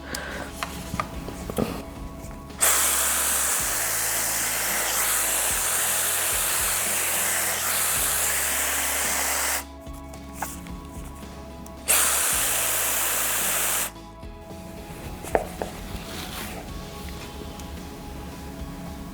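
A Chinese clone of the Dyson AirWrap hair styler, set to medium heat, blows on wet hair in two close, loud bursts of steady whooshing airflow, one about seven seconds long and one about two, with quiet handling noises between them.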